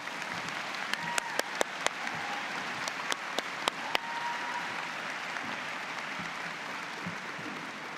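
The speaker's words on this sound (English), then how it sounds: "please join me in a round of applause for our fantastic staff and faculty" Sustained applause from a large graduation convocation audience honoring staff and faculty at Mount Royal, a steady dense wash of clapping with a few louder sharp claps standing out near the start, filling the whole stretch without speech.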